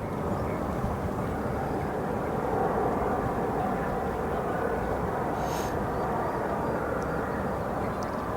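An Embraer jet on the tarmac at O'Hare airport, heard as a steady, dense engine rumble and hiss that stays even throughout at moderate loudness.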